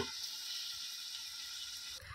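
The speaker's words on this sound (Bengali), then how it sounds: "আমি এবারে চাপা দিয়ে খুব ভালো করে কষিয়ে নেবো, আর মাঝে মাঝে চাপা খুলে নেড়ে নেবো" Meat and potatoes frying under a lid in a pan, giving a steady, soft hiss of sizzling throughout, with a faint clatter near the end.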